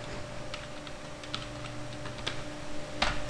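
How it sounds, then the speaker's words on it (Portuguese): Keys tapped on a computer keyboard while a command is entered at the command prompt, a handful of sharp, separate clicks at an irregular pace over a steady low hum, close and alone. "Aí você vem aqui, prompt de comando, e vai digitar a seguinte frase."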